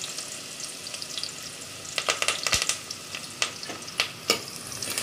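Steady crackling sizzle of onions and curry leaves frying in hot oil for a Tamil boti curry, with a few louder pops and spatters toward the end.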